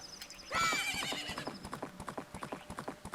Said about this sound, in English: Oh, Epona, my beautiful little horse.